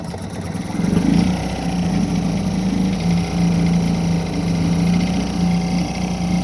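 A 1959 Elgin 2hp outboard motor catches after a short pull and keeps running steadily in a test tank, a loud, even buzzing drone with slight wavering.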